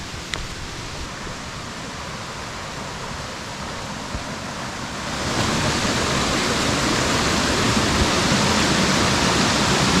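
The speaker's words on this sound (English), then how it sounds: "We got like the little creek there, little spring-fed creek here." A small spring-fed creek in the White Mountains gives off a steady broadband rush of flowing water, near and continuous, swelling louder about halfway through.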